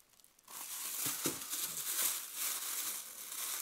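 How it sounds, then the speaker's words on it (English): Plastic bag packaging around a Wilson MVP indoor-outdoor rubber basketball is ripped open, a close, steady crinkling and tearing rustle that starts after a brief quiet moment and continues throughout. "By, of course, ripping apart the plastic bag"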